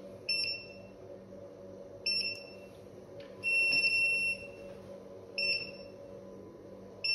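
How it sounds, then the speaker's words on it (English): A MEDGREE MLRE 150 G pharmaceutical refrigerator temperature alarm beeps in repeated short bursts at irregular intervals, one burst held longer, over a steady low hum with no talking. "you can silence the alarm anytime if you click in this button"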